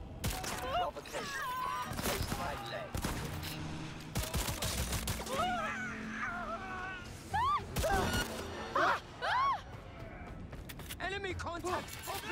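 Rapid gunfire bursts in the video game Cyberpunk 2077, sharp close cracks scattered among game effects and character voices. The shots come in irregular clusters and are mixed with talking.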